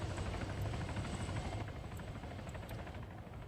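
A Hellcat helicopter in the military game Arma 3 flies overhead with a loud, continuous rotor thrum and engine whine that stays steady and close throughout.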